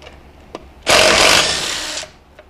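A power tool, likely an impact wrench, removing a bolt from the wheel of a 2003 Jetta: one loud whirring burst of about a second, close by, with faint clicks before and after.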